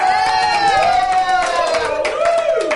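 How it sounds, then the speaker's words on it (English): Crowd cheering and clapping for an employee of the year at a lip-sync contest event, with loud whoops, high shouting voices and scattered applause building together over a sustained vocal roar. "give a thunderous roar and round of applause to the Resource Center's Employee of the Year"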